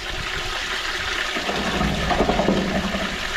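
Toilet in an old building flushing through a freshly cleared drain pipe, a loud, steady rush of water gushing and gurgling close by for the whole span.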